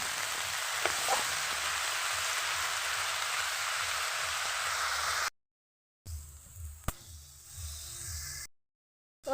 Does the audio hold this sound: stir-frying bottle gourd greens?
yes